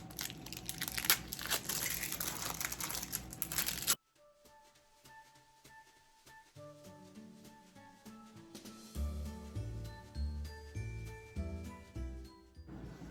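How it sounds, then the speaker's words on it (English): Lollipops being unwrapped from crinkly plastic wrappers, a dense close crackling and crumpling for a few seconds, then stopping abruptly before quieter background sounds continue, no talking. "I'm gonna take some of these lollipops, and then I'm gonna just unwrap each of them."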